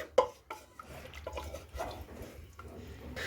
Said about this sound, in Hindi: इस तरीके से थोड़ा इसे मिक्स कर ले।